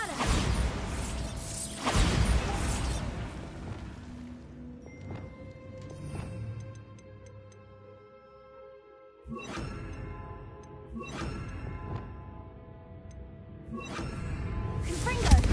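A Bombarda spell going off in the Hogwarts Legacy video game: a run of loud blasts and crashing impacts with shattering debris and mechanical clatter, several sharp hits spread across a busy, noisy stretch of game audio.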